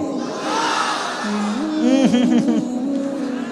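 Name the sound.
crowd shouting the takbir call at a sermon gathering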